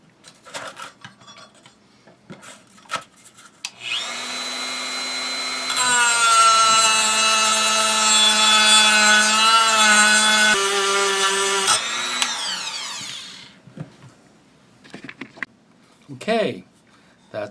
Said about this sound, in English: I did go back and sand it some more